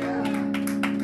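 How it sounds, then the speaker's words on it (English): A church congregation claps hands in praise during a worship service, with scattered bursts of clapping over a steady, sustained musical backing. "give God a hand clap of praise"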